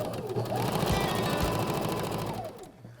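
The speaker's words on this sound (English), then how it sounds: "just going to fold it, start my sewing machine" A sewing machine stitching folded fabric panels for regalia, running steadily with a rapid mechanical clatter at close range for about two and a half seconds before slowing to a stop.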